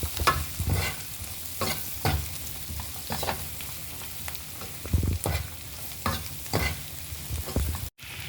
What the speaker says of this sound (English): just keep on stirring this as your meat continues to fry nice and slow